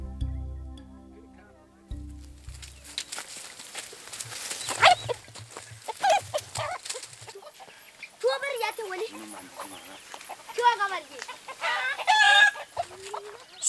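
Chickens cluck and a rooster crows in a Hamar village in Ethiopia, where each household keeps a few hens; bursts of close clucking and squawks come and go over quiet outdoor ambience, with a low hum at the start.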